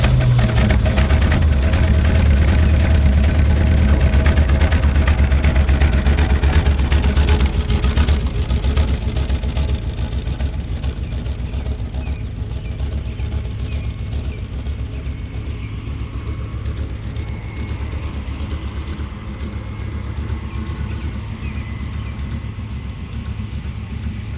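An abandoned Dodge, running for the first time after 17 years, rolls slowly around a field with a continuous low engine drone and road rumble, loud and close, easing slightly quieter partway through with no talking.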